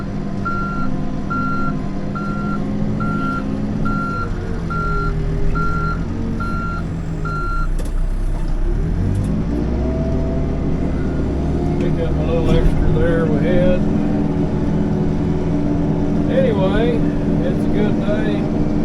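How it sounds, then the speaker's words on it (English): Backhoe working on sand with a diesel engine rumbling close and steady, a repeating reverse-alarm beep through the first half, and shifting engine and hydraulic tones as the bucket pushes. Speech-like sounds can be heard faintly in the background. "use the sides of the bucket to push the sand in the hole just a little neater"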